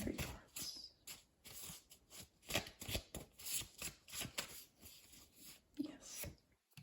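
Tarot cards being shuffled by hand, a run of quick riffling and sliding bursts in an uneven rhythm, close and fairly quiet, with short gaps between passes and no speech.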